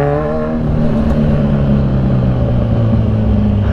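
A Kawasaki Z1000 big bike engine runs with a loud, steady, deep rumble that holds through the whole stretch, with no voices over it.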